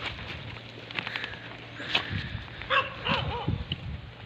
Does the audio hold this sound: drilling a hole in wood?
no